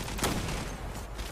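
Rapid gunfire in the online shooter Zula, a dense, continuous crackle of shots lasting the whole short moment with no pauses and no speech.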